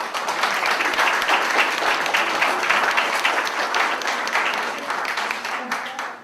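Audience applause for Donna at a city event in Desert Hot Springs, a steady dense wash of clapping that holds for the whole stretch with no talk over it.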